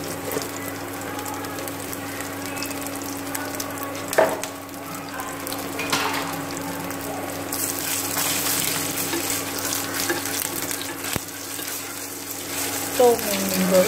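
Marinated field shrimp sizzle and get stirred with sugar in a hot pan, a continuous frying hiss with occasional scraping clatters and faint spoon knocks at close range.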